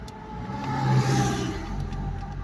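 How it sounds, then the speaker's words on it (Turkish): An Opel Vectra C engine revs as the throttle is applied during an ECU repair and performance tune. It is a steady mid-pitched car engine rising to a peak about a second in, then holding, close and fairly loud with no talk. "Gaz veriyorum."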